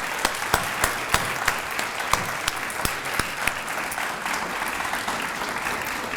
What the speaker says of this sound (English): Let's give all these wonderful students another round of applause.